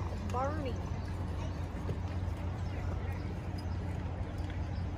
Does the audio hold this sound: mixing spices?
no